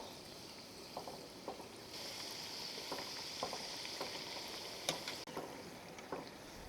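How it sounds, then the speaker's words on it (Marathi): Matar karanji, pea-stuffed pastries, deep-frying in hot oil: a faint, steady sizzle with scattered small crackles and pops throughout, and no voices. "आता दोन्हीकडनं छान रंग येईपर्यंत आपल्याला ह्याला तळून घ्यायचं आहे."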